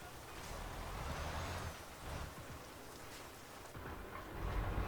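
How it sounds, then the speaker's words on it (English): Steady rain drumming on a truck in the Euro Truck Simulator 2 game, a continuous broad hiss with a low engine rumble underneath, fairly quiet and even throughout. "I love the rain. Sounds great on the truck."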